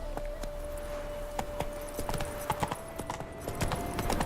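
Roach, the horse in the video game Witcher 3, walks with an even, close clip-clop of hooves over a faint steady background tone.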